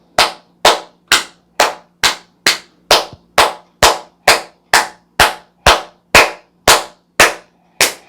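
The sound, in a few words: hand clapping, rhythmic clapping for blood circulation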